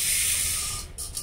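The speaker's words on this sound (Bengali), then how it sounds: "মুগ ডাল দিয়ে করবো, সেজন্য একটু মুগ ডাল নিয়ে নিয়েছি। এটাকে হালকা একটু ফ্রাই করে নেব।" Mung dal lightly frying in a pan for a winter-vegetable khichuri hisses in a bright, steady sizzle that holds close and fairly loud, then thins out and breaks up near the end.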